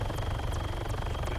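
A helicopter in the video game Arma 3 Altis Life runs its engine with a steady low droning rumble and rhythmic rotor chop, continuous and close, with no talking.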